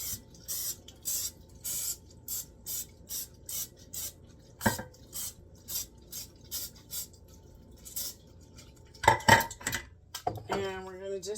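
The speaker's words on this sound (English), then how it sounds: "we're going to do a muffin tin. And I'm going to lightly grease them" A metal muffin tin is lightly greased in a kitchen, heard as a steady run of soft rhythmic sprays or rubs followed by a few sharp clanks of metal pan and utensils near the end.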